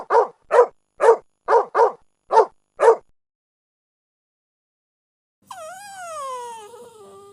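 A dog gives seven sharp, evenly spaced barks. After a few seconds of silence, a single drawn-out whine rises and falls.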